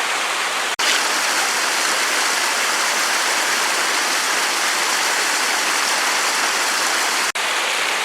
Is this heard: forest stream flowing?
yes